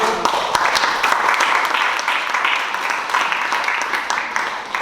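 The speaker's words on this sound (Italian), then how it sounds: "Un applauso anche a lui." An audience at a monochord sound therapy event applauds steadily, dense clapping filling the whole stretch at moderate loudness with no pauses.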